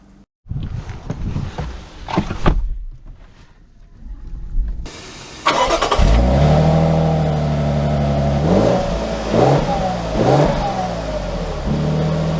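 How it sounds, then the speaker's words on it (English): A 2024 Lexus LX 600 SUV setting off and driving, with a muffled cabin hum that builds into a steady engine drone as it pulls away, with rising and falling revs and no talking. "So let us set off in the LX 600."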